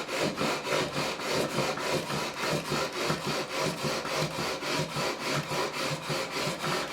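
A leveling block is pushed in steady back-and-forth strokes over the frets of a Korean-made Squier Stratocaster neck, about three rasping strokes a second, close and even, with no talk.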